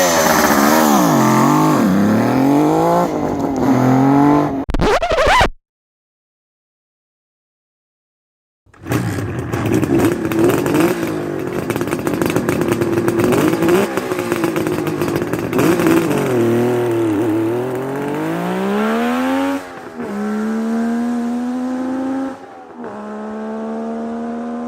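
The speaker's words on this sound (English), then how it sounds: "this 2-stroke I love the sound of. It's just got that ring, ding, ding, ding, ding, ding, ding, but with a deep rasp going with it." A two-stroke motorbike engine revs hard with a ringing, raspy note, rising and falling through several blips, cutting out for a few seconds, then resuming close and loud without any talk.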